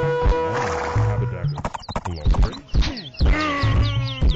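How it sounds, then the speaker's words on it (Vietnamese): Horse sounds from an Age of Empires–style strategy game match, with rhythmic hoof clops and a whinny mixed with game effects and music, loud and busy throughout. "Ngựa giò của game thủ KD đã xuất hiện."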